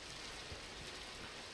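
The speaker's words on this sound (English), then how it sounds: "Rain just the way we like it" Steady rain in the video game Coop Life, a soft continuous hiss of falling drops heard alone at low volume.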